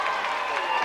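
Crowd applause and cheering for hurdler Colin Jackson at a televised celebrity athletics challenge, a dense steady wash of clapping under a busy, noisy arena with voices mixed in.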